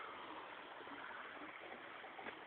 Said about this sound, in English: I know water is flowing in this creek.